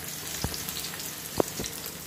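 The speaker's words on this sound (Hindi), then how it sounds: "फ्रेंड्स ये लग रहा है तड़का, और तड़के में मैंने लिया है यहाँ पे प्याज और लहसुन मैंने भून रही हूँ" Onion and garlic sizzle gently in hot oil in a pan for an Indian tadka, a faint steady frying hiss with a couple of small clinks, no talking.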